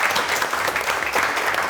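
A studio audience claps steadily and densely at a comedy show, the applause filling the full moment without a break and no voices rising above it.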